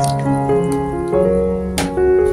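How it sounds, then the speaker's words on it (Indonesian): Water pours and splashes into a container holding potatoes and carrots, with a steady running flow and a few sharper drips and clinks, close and fairly loud. "sebelum diparut akan aku siram dulu dengan air"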